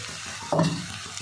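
Ground roasted spice powder being stirred into samosa filling as it fries in a pan: a soft continuous sizzle with one brief louder scrape of the spoon midway.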